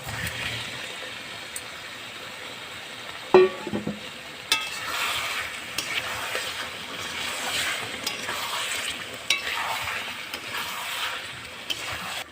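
Fried potatoes being stirred into masala in a pan for Bengali aloo dum, with steady soft sizzling and scraping stir sounds, a few sharper clinks of a spatula against the pan, no talking.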